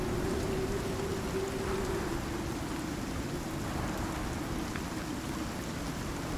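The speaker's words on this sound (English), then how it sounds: "It's just a little bit of rain." Steady rain falling in a game world with volumetric clouds, a dense continuous hiss and patter that stays even and fairly loud throughout, with no voices.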